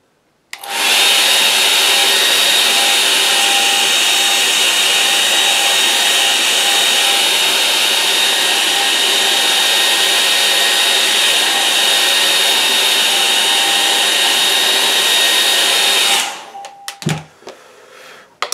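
A hair dryer blows steadily and loudly at close range for about fifteen seconds while drying a wet watercolour painting, then switches off, followed by a few handling knocks.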